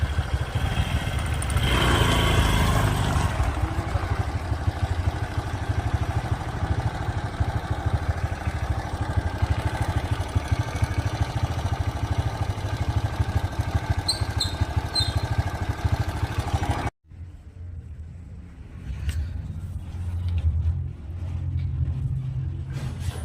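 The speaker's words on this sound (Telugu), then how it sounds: "అయితే బండి స్టార్ట్ చేసుకుంటావు మీరే? ఓకే, తోలు బండి తోలు." A motorbike starts up and rides off, its engine a steady droning rumble with a louder revving burst early on, then an abrupt cut and a quieter engine sound toward the end.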